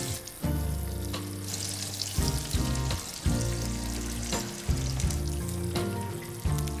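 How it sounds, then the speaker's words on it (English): Vegetables frying slowly in olive oil and butter give a gentle, continuous sizzle with soft crackles, set against sustained background music, with no voices. "fry them slowly in olive oil and butter"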